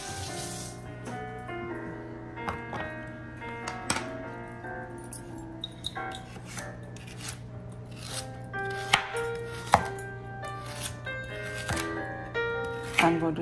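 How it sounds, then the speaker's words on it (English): Carrots chopped into big chunks on a board for a sweet and sour soup, steady knife taps recurring through the stretch over a sustained musical bed. "I'm going to chop them"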